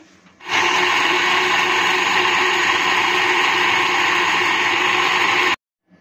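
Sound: blender making mango shake

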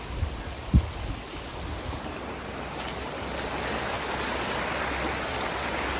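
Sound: flooded river water rushing

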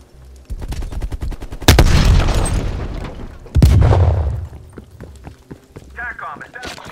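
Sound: frag grenade explosion in a video game

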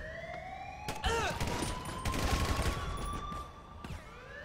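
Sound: gunfire in GTA 5 video game

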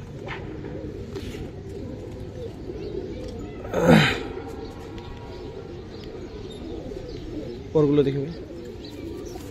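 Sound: giribaj pigeons cooing

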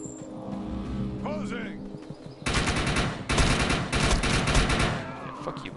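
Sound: shotgun firing in the video game Defiance 2050

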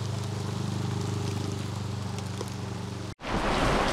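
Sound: heavy downpour of rain

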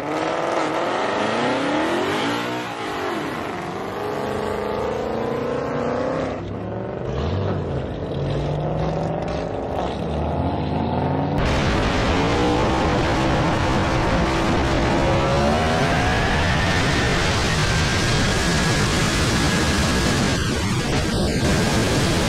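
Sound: cars in a street race

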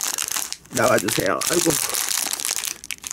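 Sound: tearing open plastic bag of a knockoff Lego block set

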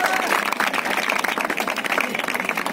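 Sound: loud applause for a girl

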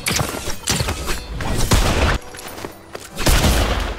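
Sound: gunshots in a video game

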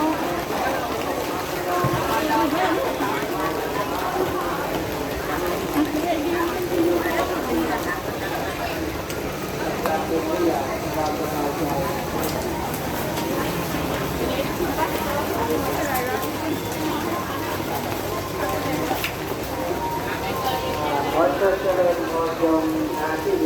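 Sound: rain falling

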